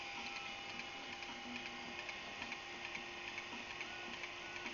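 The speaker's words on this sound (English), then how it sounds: "This is the Newman motor." A Newman motor with a 200-ohm coil runs steadily, giving a continuous mechanical whir with fine regular ticking from its commutator, close and fairly quiet.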